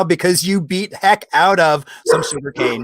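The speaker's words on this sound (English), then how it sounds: "Sorry, that's my dog." A pet dog barks in the background of a home video call while a person keeps talking, the barks mixed in under steady speech.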